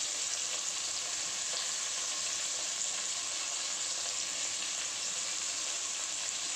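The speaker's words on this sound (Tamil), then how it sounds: "நல்லா வதங்கிட்டு இருக்கட்டும்." Curry leaves and coriander leaves fry in a pan of hot oil for a horse gram sambar, giving a steady, even sizzle close up with no voices.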